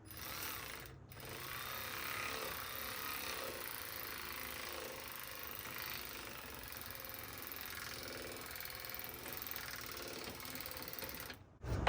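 A power tool drives a fastener into the fan shroud of a Jeep Cherokee XJ, giving a faint, steady rattling buzz that runs almost continuously with a brief dip near the start.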